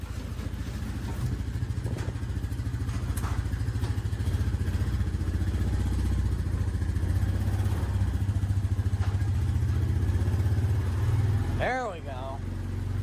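A big four-wheeler ATV engine runs steadily under riding, a mid-pitched motor drone with clatter, heard close while voices talk over it and a brief whoop near the end.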